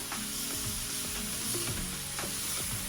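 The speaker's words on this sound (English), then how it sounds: "So you let it fry each side for about 2 minutes on each side, just to get a bit of color." Chicken pieces for an Ecuadorian stew sizzle steadily in a hot pan, with a dense, even frying hiss and occasional soft stirring scrapes and clicks throughout.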